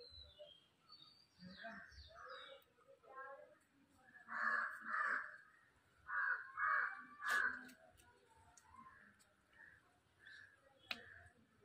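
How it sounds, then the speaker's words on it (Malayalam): Several crows caw around a sick crow chick, harsh calls coming in bursts and repeated clusters at close to moderate distance, while a person talks quietly at times in between. "അപ്പോൾ കുറേ കാക്കകൾ വന്നിട്ട് കരഞ്ഞുകൊണ്ടിരിക്കുക."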